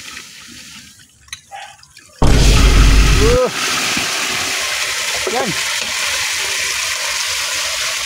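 Water suddenly gushes and splashes loudly from a water line connection, with a deep rushing burst, then settles into a steady spray while a voice briefly speaks.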